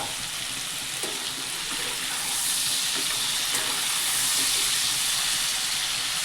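A covered pan of potato bhaji hisses with escaping steam, a soft continuous hiss that grows slightly louder partway through, with no voices.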